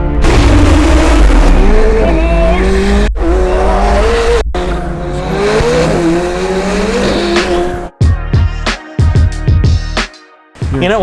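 A car engine revs hard and roars loudly through a sustained acceleration, then drops into choppy bursts of revving with brief gaps between gear changes.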